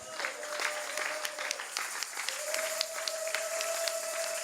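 A church congregation applauding during a sermon, a dense, steady patter of many hands clapping at moderate distance, with a sustained tone from the sound system running underneath.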